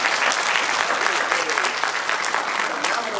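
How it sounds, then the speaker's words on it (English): Dense, steady audience applause fills a banquet hall at a high school band banquet, many hands clapping continuously and loudly with no pause, some crowd noise mixed in. "Man, clap it up for that."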